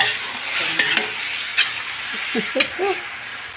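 Fried rice stir-fried in a pan gives a steady, close sizzle with a few sharp scraping and stirring knocks. A voice murmurs briefly near the end.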